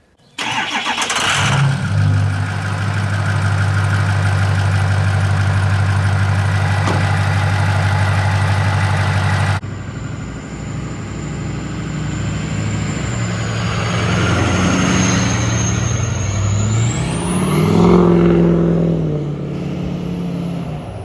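A Ford 6.0L Powerstroke truck engine idles loudly with a deep steady drone for about ten seconds, then the truck drives off, its engine and road noise rising and swelling toward the end, with no speech.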